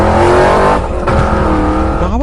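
A motorbike speeds off at full throttle, carrying two riders in a cartoon story. A loud, steady engine whine holds throughout and climbs in pitch near the end.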